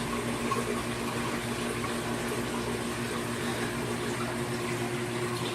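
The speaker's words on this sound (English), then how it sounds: "all those do is dump back down, straight down through the shelving, and come back down into the sump" Aquarium water from a 200-gallon saltwater reef system in a garage fish room drains straight down through shelving into the sump, a steady, continuous rushing trickle with a low pump hum beneath it, with no talking.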